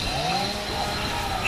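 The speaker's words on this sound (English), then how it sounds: "There's a chainsaw out near you." Chainsaw weapon in Gears of War: Judgment multiplayer, a continuous buzzing engine drone at fairly high level, steady for the whole moment with a slight rise at the end.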